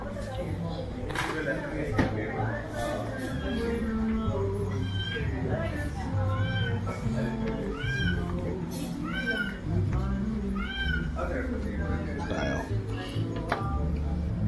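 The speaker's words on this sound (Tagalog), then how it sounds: "Pusa." A cat meows repeatedly in short rising calls at a resort near Taal Lake, heard close and clear over ongoing conversation and household background noise.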